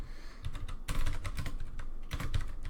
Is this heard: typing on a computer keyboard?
yes